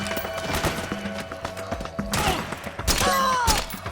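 Repeated gunfire rattles through a Metal Gear Solid 4 battle, with sharp shots and bursts over dense background noise and shouting voices.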